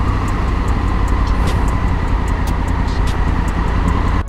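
Traffic backed up on a slippery mountain road near Manali in the Beas valley after floods: a loud, steady rumble of idling and creeping car engines, close and unbroken, with no talking.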